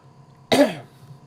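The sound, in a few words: cough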